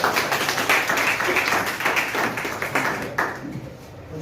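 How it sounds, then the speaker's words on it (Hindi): Applause for a participant at a motivational seminar hall: a dense wash of many hands clapping steadily for about three seconds, then thinning out, with some voices underneath. "ताली बजाओ उज्जवल के लिए"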